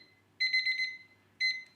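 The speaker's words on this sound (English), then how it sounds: "So you can always have this timer with you." A kitchen timer's alarm goes off while biryani is cooked, sounding as a rapid trilling electronic beep in one longer burst and then a shorter repeat, close and clear over a quiet background.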